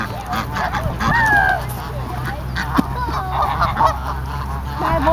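A goose honks at a lake, a couple of nasal calls rising over steady outdoor background noise, with people talking nearby.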